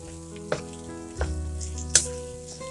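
Cooked rice stirred into sizzling capsicum in a pan, a steady fry hiss broken by three sharp scraping stir strokes near the microphone, with soft music underneath and no talking.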